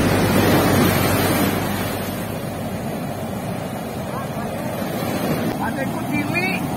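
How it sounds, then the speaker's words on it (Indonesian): Big waves on the open sea seen from a small fishing boat, a steady loud rush of water and wind buffeting the microphone, easing slightly after the first seconds and holding as a continuous roar. "Tapi ombaknya masih besar."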